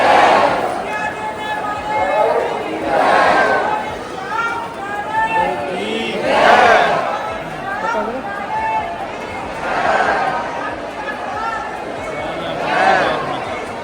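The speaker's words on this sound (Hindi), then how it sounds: "उसके बाद ये भीड़ सब श्याम बाबा की आरती गा रहे हैं" A large crowd of devotees sings aarti to Shyam Baba together at the Phagun fair, a loud, steady wash of many voices rising and falling in swells every few seconds.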